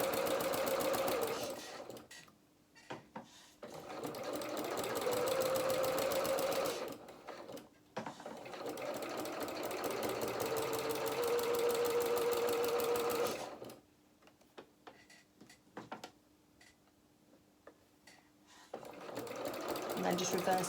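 A sewing machine stitches a winter skating coat hem in several bursts of steady, rapid clatter separated by pauses. A voice talks quietly between the runs of stitching.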